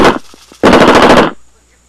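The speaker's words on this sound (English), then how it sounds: "I will let you know how to make a gunshot sound" A loud burst of rapid automatic gunfire used as a gunshot sound effect, preceded by a few short pops, then cutting off abruptly into quiet.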